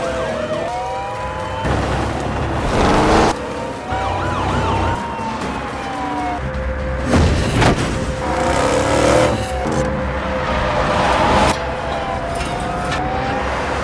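Police car sirens wail during a car chase, a loud, continuous wailing sweep with engine roar and road noise, broken by sharp bangs and bursts of commotion.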